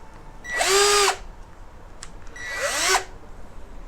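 Power drill driving wood screws into a board, two bursts of high motor whine about a second long each, close up and rising in pitch, with a short pause between them.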